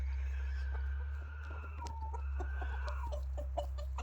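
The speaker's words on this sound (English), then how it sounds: "chickens are fat and happy" Chickens clucking in a farmyard coop, several short clucks and a drawn-out squawk over a steady low electrical hum; fairly close, no talking.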